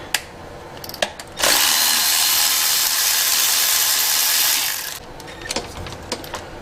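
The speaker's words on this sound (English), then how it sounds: "Alright, now we got our 8mm. Gonna unbolt the intake." A power tool, likely an impact or drill driving an 8mm socket, unbolts the intake manifold on an LS truck engine, running in one loud, steady burst of about three seconds between a few sharp clicks and clanks of handling.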